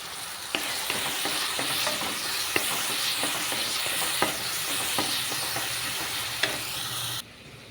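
Curry leaves crackle and sizzle loudly in hot oil, a dense steady hiss punctuated by sharp pops, with stirring sounds throughout.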